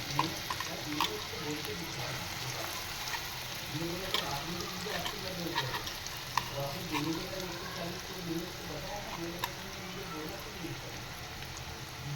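Onion frying in a pan for pav bhaji, a continuous low sizzle with occasional clicks and scrapes, close by, with someone talking over it throughout.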